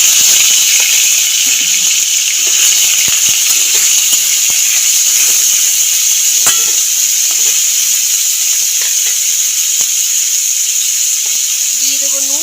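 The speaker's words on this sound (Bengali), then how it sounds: "গরম তেলের মধ্যে দিয়ে দেবো ছোট ছোট করে যে চিকেন কেটে রেখেছিলাম" Small chopped chicken pieces sizzle in hot oil, a loud, steady hiss with scattered pops running without a break, and a faint voice can be heard at times.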